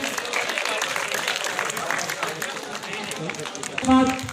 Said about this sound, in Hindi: जोरदार तालियां बजाते रहेंगे